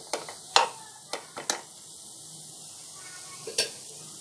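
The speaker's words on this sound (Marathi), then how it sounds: "पुन्हा अगदी 1 मिनिटभर आपण हे परतून घेतोय" A pan on the stove as spiced cucumber is stirred and sautéed, with a few sharp clinks of a spoon against metal over a steady close sizzle.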